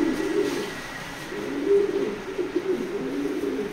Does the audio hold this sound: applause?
no